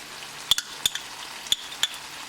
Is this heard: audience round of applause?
no